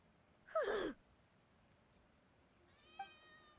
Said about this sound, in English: Am I hearing a cat meow?